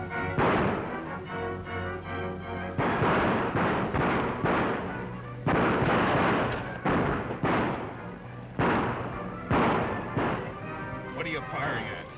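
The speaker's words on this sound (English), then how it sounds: "What are you firing at?" Gunfire in a 1930s western shootout, a series of sharp, echoing shots spaced irregularly over about twelve seconds, some in quick pairs, loud and close.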